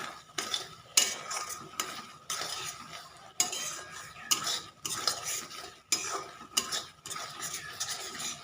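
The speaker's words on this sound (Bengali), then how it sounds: "মশলাটাকে একটু মিনিট 2-3 মতো কষিয়ে নেব।" A spoon scrapes rhythmically through spice paste frying in a pan for a rural-style chicken curry, each stir a short rasping sweep over a soft sizzle, close and with no talking.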